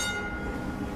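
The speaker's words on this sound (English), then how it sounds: "The Hong Kong tram. Affectionately called the Ding Ding for the sound it makes to warn pedestrians of its approach." A Hong Kong double-decker tram rolls past in a steady, loud rumble of wheels and rail noise with a continuous broadband roar, no voices over it.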